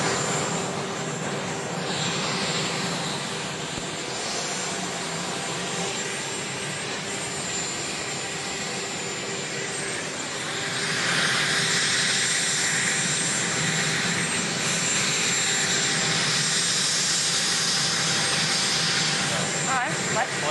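A helicopter's steady loud engine roar fills the whole stretch, swelling slightly partway through, with people talking underneath.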